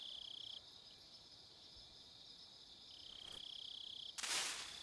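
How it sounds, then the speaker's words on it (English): A frog in the video game Metal Gear Solid 3 calls among jungle ambience, with a steady high insect-like trill and a brief louder burst near the end, fairly faint overall. "Frog!"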